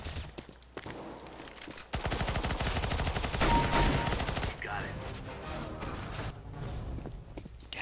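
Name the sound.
XM1014 automatic shotgun fire in the video game CS:GO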